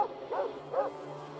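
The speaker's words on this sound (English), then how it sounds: "You can hear dogs barking." Two short dog barks in the game Fallout 2 about half a second apart, moderately loud over a steady low background hum.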